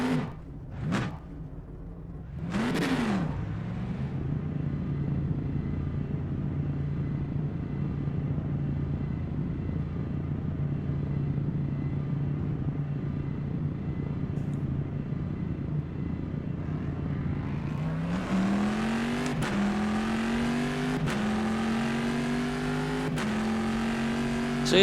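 Corvette engine in the rFactor 2 racing game, a steady low rumble at idle after a few quick revs, then climbing through rising revs and gear shifts toward the end, alone without voices.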